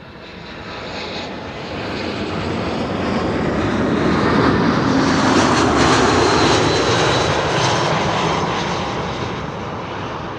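A Tarom airliner arriving from Bucharest at Amsterdam Schiphol roars past, its engine noise swelling steadily to a loud peak midway and then easing slightly while staying strong.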